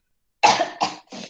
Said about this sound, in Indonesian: Saya barusan batuk.